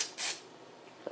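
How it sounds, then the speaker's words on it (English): A short, close hiss of smoke detector tester spray aimed into a detector, one quick burst, followed by quiet room tone and a faint sound near the end. "I'm going to be using smoke detector tester spray."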